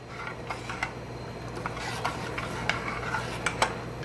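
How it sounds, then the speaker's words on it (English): A spoon stirs honey syrup for baklava in a pot, making repeated scraping clinks against the metal at an uneven rhythm over a quiet steady hum. "Keep stirring it, let it come to a nice boil."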